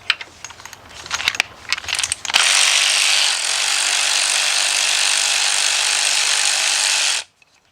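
A ratchet with a 14mm socket loosens a bolt on a Kia or Hyundai engine during timing chain work: rapid clicking bursts for about two seconds, then a long loud continuous whirring until an abrupt stop.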